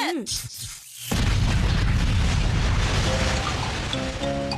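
A gadget blows up in a cartoon with a sudden loud boom that rolls into a long, dense rumbling roar, after brief voices at the start.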